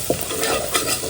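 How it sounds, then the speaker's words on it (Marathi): Masala frying in hot oil while mutton sukka is being made, a close, dense sizzle with quick stirring scrapes throughout the short moment. "मसाला तेलात परतून घेऊया ना"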